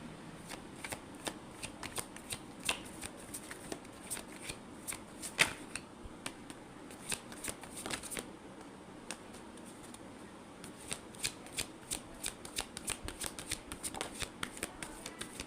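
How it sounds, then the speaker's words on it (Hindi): Tarot cards are shuffled close up in a quiet room, giving a long run of soft riffling and flicking clicks in irregular bursts with short pauses, faint and steady throughout. "मैं कार्ड शफल करूँ"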